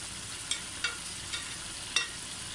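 Tomatoes going into hot oil for a Sialkot dhaba-style chicken karahi, a steady sizzle broken by four sharp scraping stirs spread across the moment.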